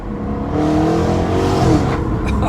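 A sports car engine revs hard through a series of downshifts, loud and close, its pitch surging and dropping with each blip and no talking over it.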